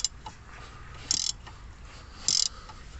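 A hand ratchet turning a car suspension bolt with a T5 or size 5 Allen socket, giving soft clicking pawl ticks and two brighter, sharper bursts of ratcheting about a second apart, close and fairly quiet.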